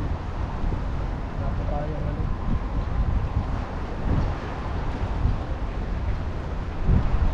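Steady low rumbling wind buffets the microphone throughout, with a person talking briefly over the roar.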